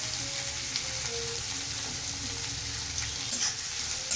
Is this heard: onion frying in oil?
yes